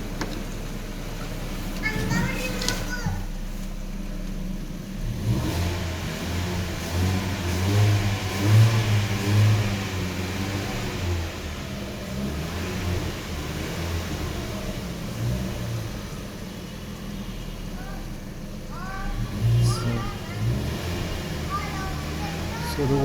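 Ford Figo Aspire engine fitted with a K&N air filter, revving in a few throttle blips that rise and fall over a steady idle, with faint talk in the background.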